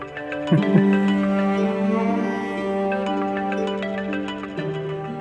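A phone ringtone plays loudly and continuously, a sustained melodic tone that shifts pitch a few times across several seconds, with no voices over it.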